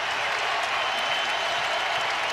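Dense applause and cheering from a basketball arena crowd backing the Creighton Blue Jays against Nebraska, a loud, continuous wall of clapping with no pauses.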